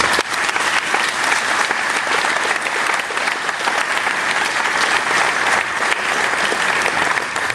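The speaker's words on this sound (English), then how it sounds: "So, massive round of applause for them." An audience at a drinks symposium applauds in a dense, steady round of clapping that holds evenly from start to finish, close and loud, with no voices over it.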